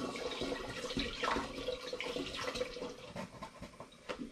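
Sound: pouring apple juice into a fermentation vessel

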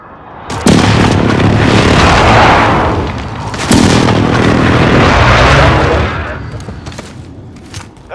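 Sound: precision airstrike explosions in video game Call of Duty: Modern Warfare

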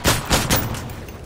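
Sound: gunfire from a video game

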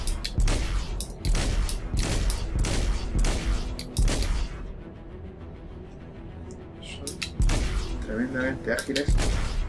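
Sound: spaceship gunfire in video game

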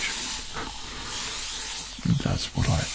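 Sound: spray bottle hissing close to the microphone

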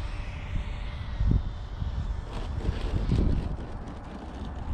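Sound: Freewing Avanti RC jet motor on 8s battery

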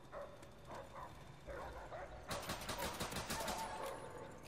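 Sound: dogs barking in Call of Duty video game

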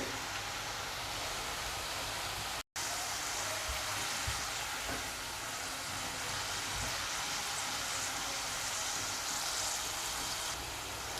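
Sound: okra (bhindi) frying and roasting in a pan

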